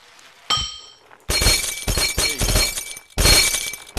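Glass shattering in the physics game Happy Wheels: a short bright clink, then two loud, crashing breaks that spray sharp fragments, with nobody talking.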